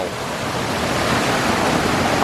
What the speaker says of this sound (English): Love that bottom waterfalls.